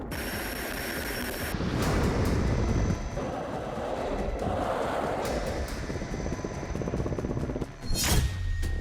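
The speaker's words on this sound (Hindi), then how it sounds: "हेलीकॉप्टर्स उड़ान भर रहे हैं।" A loud, sustained roar of fighter jets and helicopters fills the air as they pass overhead, with a sharp whoosh near the end and no talking.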